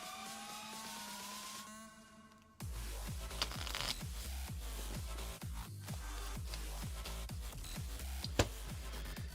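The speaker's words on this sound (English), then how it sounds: "we got to shuffle up the Water Giants cards" Water Giants cards from the Wraith and the Giants board game being shuffled by hand, a rapid run of crisp riffling clicks and flutters close up, preceded by a brief tonal hum.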